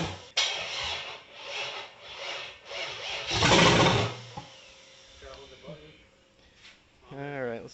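A 6.0 LS V8 swapped into a 1978 El Camino cranks in rhythmic pulses, then catches with a loud roaring burst before dropping off into sputters, with people talking around it.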